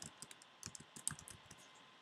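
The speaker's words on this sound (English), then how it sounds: "We do that by typing in the author's last name into the author field." Quiet, rapid keyboard typing as an author's surname is entered into a library catalog search, a string of light clicky keystrokes in an otherwise still room.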